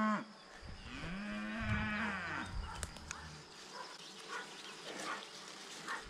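A herd of cattle moos on a farm at a river bridge crossing, one loud drawn-out low moo up close followed by fainter calls and general farmyard noise, with no talk.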